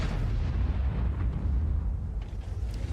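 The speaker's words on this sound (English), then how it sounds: "Artillery shot him instead?" Heavy artillery fire in World of Tanks, a dense low rumbling boom that fills the whole stretch at steady loudness, with no voices over it.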